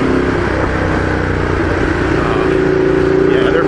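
A Ducati Diavel motorcycle ridden through traffic while splitting lanes, its engine droning steadily and close with wind rush, the note rising slightly toward the end.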